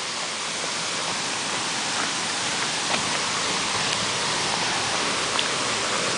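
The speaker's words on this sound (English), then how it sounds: "That's the biggest waterfall I've ever seen." A large waterfall in Angeles National Forest roars with a constant, dense rush of falling water, loud and close, and no one speaks over it.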